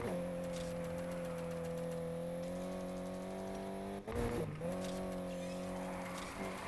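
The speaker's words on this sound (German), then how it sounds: "Das war ein schöner, sauberer Drift." Car drifting in Need for Speed Heat: a sustained engine drone with a steady pitch that dips abruptly midway, followed by a lurch and a recovering rev, steady and moderately loud with no talking.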